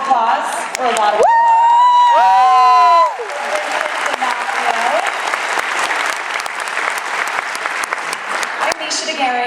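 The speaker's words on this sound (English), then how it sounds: "A little applause or a lot of applause." A crowd at a film screening presentation breaks into loud whoops and cheers, then settles into sustained clapping that carries on steadily to the end.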